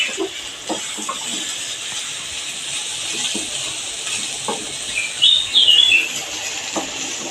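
Grated sweet potato sautéing in a pan gives a steady, moderate hiss, with a few scattered clicks of the spatula and a brief louder sizzling flare near the end.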